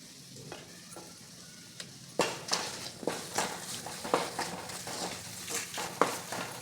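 Spice powders, Kashmiri chili and plain chili powder with asafoetida, frying in oil over very low heat for a star fruit pickle; soft sizzling under repeated scraping stirs, close and steady, with no talking.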